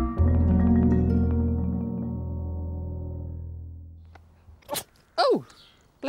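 A single sharp sneeze bursts out near the end, loud and close, following a long sustained musical tone that fades away, with a couple of brief vocal sounds around it.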